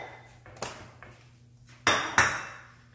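A plate is set down and slid on a kitchen counter beside a hot nonstick frying pan, giving a few brief clattering knocks followed by two louder ceramic clinks close by.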